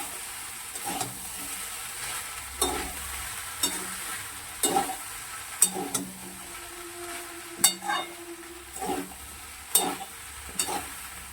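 Rice is stirred and fried in a pan for pilau, with a quiet steady sizzle under repeated scraping and clinking strokes of a spatula against the pan, close and without talk.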